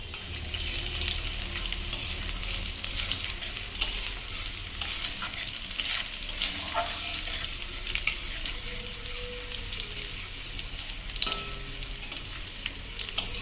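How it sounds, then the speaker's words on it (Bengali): Chopped garlic frying in mustard oil for a Bengali beetroot mash sends up a steady, dense sizzle with crackles and occasional stirring scrapes throughout, close and unbroken, with no voices. "এবার দেবো সর্ষের তেল। এবার আমরা দেবো প্রথমে রসুন কুচি,"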